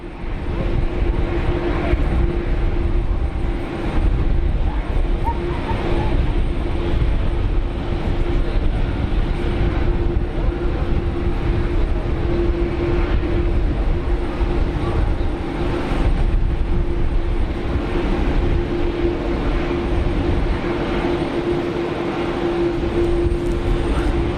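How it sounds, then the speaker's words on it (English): A Norwegian airliner on short final at Geneva Airport, rendered as a steady, loud low engine roar with a sustained whine that holds throughout, heard from a distance, with wind and weather adding to the rumble. "Norwegian on a short final."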